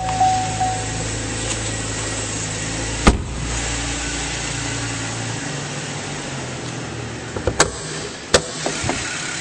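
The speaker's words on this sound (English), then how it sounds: "very clean engine compartment, running nice and smoothly" A 2010 Chevrolet Camaro engine idles smoothly and steadily at close range, with a couple of sharp clicks and knocks breaking through the hum.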